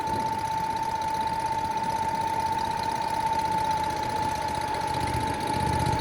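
A generator engine powering a welder runs at full throttle, a loud, steady drone with a constant tonal whine and no talking.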